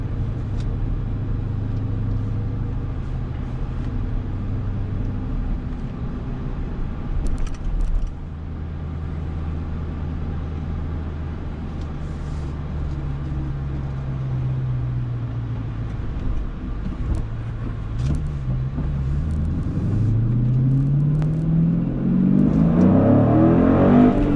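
A 2020 manual widebody Dodge Challenger Scat Pack V8 rumbles steadily in sport mode for a long stretch, then revs rise and climb loudly near the end as it accelerates, heard from inside the cabin.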